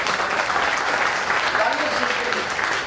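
Sustained applause from an audience at a business leadership training session in Meerut, a steady dense roar of many hands clapping for about three seconds while a voice carries on over it.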